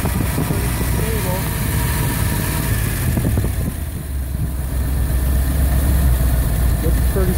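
An engine with an auto mixer runs on wood gas at about 3,000 RPM. It gives a loud, steady mechanical hum up close, dips briefly midway and then holds stable.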